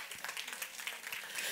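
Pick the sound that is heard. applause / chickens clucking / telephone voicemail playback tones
applause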